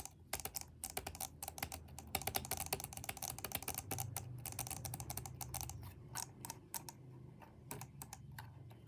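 A computer mouse is butterfly-clicked, rapid irregular bursts of sharp plastic clicks fired with two fingers, close and quiet with brief pauses between runs.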